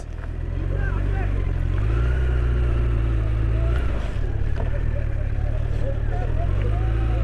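Several Toyota Mark X cars rev their engines nearby, a loud, continuous low rumble that rises and falls, with people's voices mixed in underneath.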